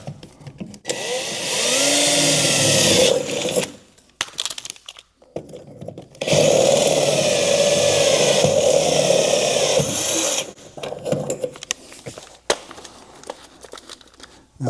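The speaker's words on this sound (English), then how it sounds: "then we'll go to the step drill bit." A step drill bit cutting through the steel car body of a 1973 MGB: two long, steady whirring grinding runs separated by short pauses and a few brief stop-start bursts, close to the microphone.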